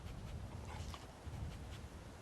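A puppy whimpers softly in the post-apocalyptic game Fallout 4, faint high whines over a steady dull background hum, with no speech.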